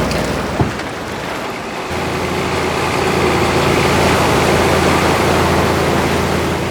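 A fishing boat carrying fish motors toward a fish cage at sea, its engine a steady low drone that swells a little after the first two seconds, as if drawing nearer, with no voices.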